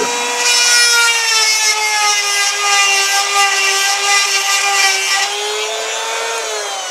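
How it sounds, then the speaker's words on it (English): A grinder working steadily against a mushroomed metal bearing surface, its high whine holding a strong sustained pitch with rising harmonics, loud and close for nearly seven seconds with no talk. "So I'm going to try with the grinder."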